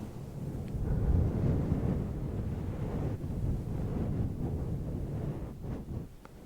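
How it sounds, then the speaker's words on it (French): Steady wind on a beach on the west coast of France buffets the microphone with a deep, rumbling roar that rises and falls slightly, no voices. "Il y a du vent."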